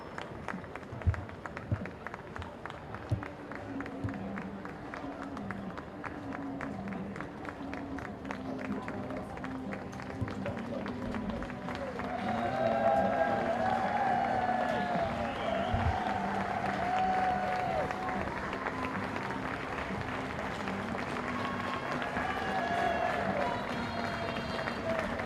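Crowd in the grandstands at a polo match at The Villages Polo Club cheering and applauding, a steady wash of clapping that swells midway, with music and an announcer's voice running over it throughout.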